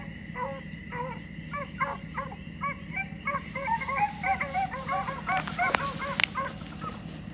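Hunting dogs chasing coyotes at night bay and yip in a dense, overlapping chorus that carries from a distance, rising in intensity toward the end over a steady low outdoor hum.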